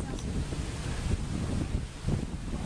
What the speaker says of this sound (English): You got your own wind here, this is good.